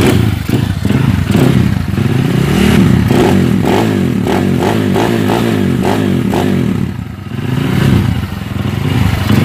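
A modified Honda Astrea motorcycle engine started for a test, loud and close, running with a rough pulsing idle and a few clattering blips before dipping briefly and picking up again.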